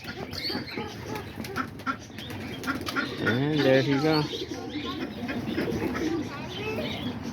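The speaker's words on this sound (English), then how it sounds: "But there's all the pigeons right there. All the rollers." Roller pigeons coo in low, throaty rolling calls amid light flapping and chirps, with one clear close coo in the middle, while a person talks briefly in the background.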